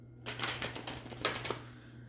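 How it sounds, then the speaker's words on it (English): Tarot cards are shuffled in a short, quiet burst of rapid papery flicks and riffles, close and alone with no talking. "I want to get one more shuffle in."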